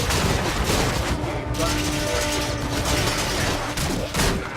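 Gunfire in the Warframe video game, a dense rapid barrage of shots with booming impacts and mechanical clatter, loud and sustained over a few seconds, with a voice faintly underneath.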